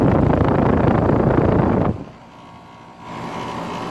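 A 2013 Rheem Value 3-ton, 13 SEER central air conditioner with a fan motor runs outdoors as a loud, broad whooshing roar that abruptly drops away near two seconds, then returns as a quieter steady hum.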